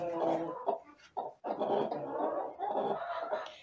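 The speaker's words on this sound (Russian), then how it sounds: "А здесь у меня сидит клуша." A broody hen clucks and murmurs in low, throaty bursts close by, a soft continuous grumbling with brief pauses.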